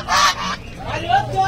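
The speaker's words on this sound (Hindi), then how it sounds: "और सही बड़े बड़े टर्की।" Big turkeys gobble and call at a pet market, several loud close honking bursts in quick succession, with faint background chatter.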